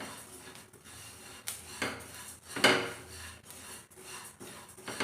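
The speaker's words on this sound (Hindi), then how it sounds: "तिल को भी हम इसी तरह से चलाते हुए 2 मिनट तक हमें इसको भून लेना है।" Sesame seeds are stirred and dry-roasted in a pan, giving soft scraping and rasping strokes in an uneven rhythm, with a few louder scrapes against the metal.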